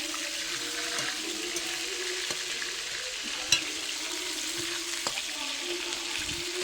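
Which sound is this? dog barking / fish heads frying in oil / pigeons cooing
fish heads frying in oil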